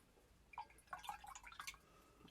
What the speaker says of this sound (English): going to wet my brush, and I'm going to pick up some of the primary cyan.